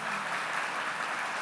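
Church congregation clapping together, a dense steady wash of applause with no break, moderately faint.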